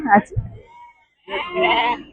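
A short sheep bleat opens at a livestock market in Gudur, then after a pause a longer, louder bleat follows, close and clear with a little background murmur.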